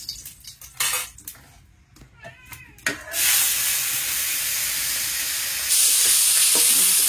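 Fish frying in hot oil in a village kitchen, first some clinks of utensils, then a loud steady hiss of sizzling that swells when the fish goes in and continues close up without talk.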